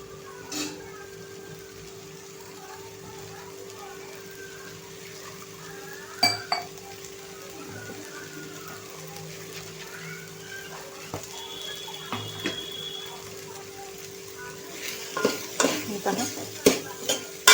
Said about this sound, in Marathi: दोन 3 मिनिटं हाय फ्लेमवर आपण परतूया